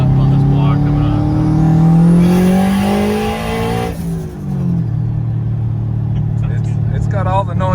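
A high-horsepower car of about 600 hp revs hard and loud nearby, its engine note rising and falling through strong sweeping harmonics, with people talking over it throughout.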